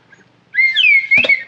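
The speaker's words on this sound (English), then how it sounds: "You just add the slide whistle sound." A slide whistle gives one short pitch-swooping toot, loud and close, with a brief percussive knock near its end and no talk.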